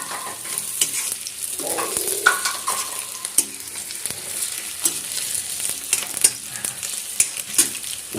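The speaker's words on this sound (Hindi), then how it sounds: "ध्रुव के हो रहे हैं आलू फ्राई" Potatoes fry in a pan at home, a bright crackling sizzle broken by repeated sharp scrapes and knocks of a spoon stirring, close and fairly loud, with a short hum of sound near the start.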